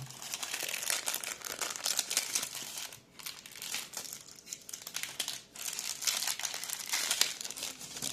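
Plastic packaging around a plain wood-cutting saw blade for a compact Ryobi One+ 18V reciprocating saw is crinkled and torn open in a steady, close crackle, with two brief pauses.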